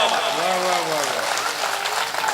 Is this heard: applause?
yes